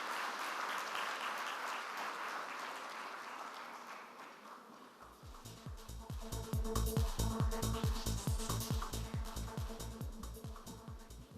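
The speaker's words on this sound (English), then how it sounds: "give a big round of applause to Jakshay Shah, our chief guest for the evening" Audience applause at a NAR-India annual convention evening rises after a few seconds of softer crowd noise into a louder, rhythmic clapping with distinct, regular beats, as though many in the hall clap in unison.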